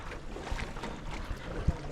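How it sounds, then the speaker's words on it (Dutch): Boats moving on a busy river at Ninh Binh, Vietnam, a soft wash of water and wind with faint low knocks and splashes, quiet and continuous with no talk. "Het is wel spits hier op het water."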